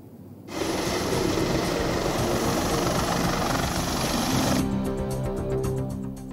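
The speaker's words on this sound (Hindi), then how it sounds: "मुख्यमंत्री तीरथ सिंह रावत हेलीकॉप्टर से पुलिस लाइन पहुंचे।" Helicopter carrying a chief minister lands at police lines in Rudrapur, its loud steady rotor and engine roar starting abruptly after a brief quieter moment and holding close before cutting down near the end.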